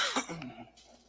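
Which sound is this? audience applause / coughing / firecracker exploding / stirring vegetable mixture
coughing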